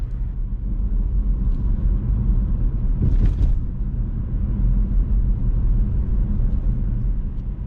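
Car engine droning steadily at speed on a rural road with heavy low rumble and road noise, plus a brief mid-range surge near the middle, no voices.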